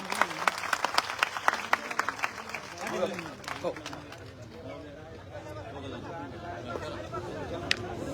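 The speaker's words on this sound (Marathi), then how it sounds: "जोरदार टाळी" A large crowd at an outdoor Maratha community rally claps loudly for about three seconds, then the applause fades into crowd murmur as someone speaks over a loudspeaker.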